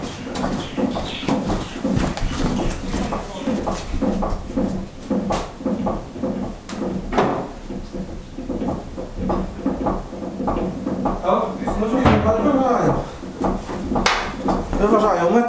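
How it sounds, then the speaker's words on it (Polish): Door being forced and broken open in a residential building in Sanok, with repeated heavy banging and cracking blows in an irregular rhythm, close and loud, while people talk throughout. "Wyważają, zniszczyli drzwi"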